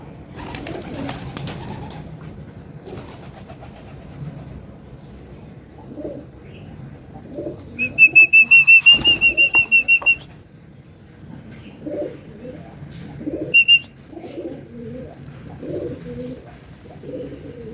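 Pigeons coo in low, soft, repeated phrases throughout, fairly close, with a brief high-pitched whistling tone breaking in partway.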